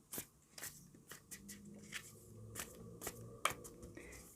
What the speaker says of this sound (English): we'll take a little bit of shuffling